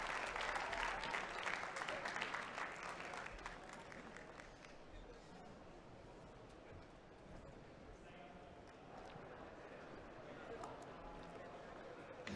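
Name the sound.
audience applause for barista Mikael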